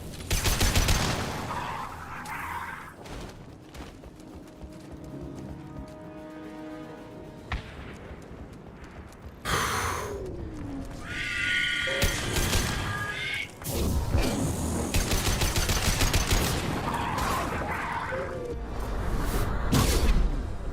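Rifle fire in the video game Mass Effect 2, loud bursts of shots and booms broken by quieter stretches, with game effects and tonal sounds between volleys, heard up close.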